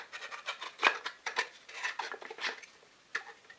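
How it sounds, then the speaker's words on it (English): A wooden rod is slid into a plywood jig for drilling centred holes in dowel end grain. Close, quiet scraping and light knocks come in short irregular bursts, with no talking. "I insert the wooden rod,"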